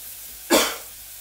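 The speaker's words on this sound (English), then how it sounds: "Bit of a cough there." A single short, sharp cough close by, surrounded by quiet.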